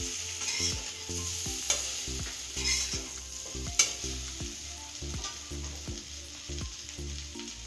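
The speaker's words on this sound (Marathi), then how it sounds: "ह्या वड्या आपण घालून घेतो छान परतून घ्यायचे आहेत वडे आपल्याला" Alu vadi, colocasia leaf rolls, shallow-fry in a pan with a steady sizzle while a spatula scrapes and turns them in a regular rhythm, close and moderately loud, with no talk.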